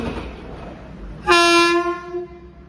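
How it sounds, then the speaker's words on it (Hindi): The Ranchi Vande Bharat train sounds its horn at platform 2 of Gaya Junction: one loud, sustained horn blast of about a second, over a low station rumble. "ये प्लेटफॉर्म नंबर 2 है, यहीं पे ट्रेन आई है"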